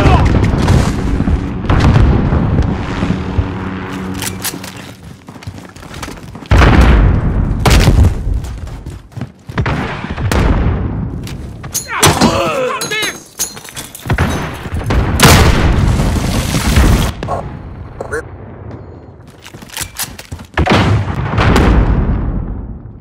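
Heavy booming explosions from grenades in the video game Call of Duty: Modern Warfare, loud thudding blasts recurring irregularly amid gunfire and battlefield noise, with brief voice callouts in between.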